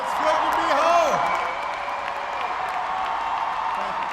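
An enthusiastic crowd welcoming a speaker sends up broad, steady applause and cheering that fills the background beneath a voice speaking over it.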